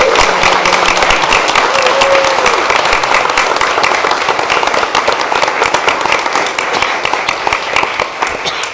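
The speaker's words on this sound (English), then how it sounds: "So let's give these guys a round of applause." Applause from the audience at a school board meeting honoring student athletes: a loud, steady wash of many hands clapping that holds for about nine seconds, easing slightly toward the close.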